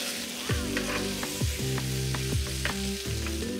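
Scallion pieces stir-fried with pork belly and potatoes in a dry-pot Sichuan dish, steady loud sizzling broken by a series of rhythmic clanking spatula strokes against the wok, about one per second.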